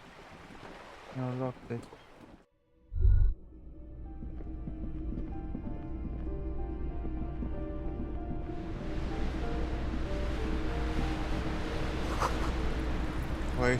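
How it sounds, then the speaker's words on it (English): Waves crash and wash in a steady roar from the video game Disco Elysium, swelling into a broad continuous surge after a brief silence, with a short spoken remark early on and game music tones layered underneath. "Waves crashing in"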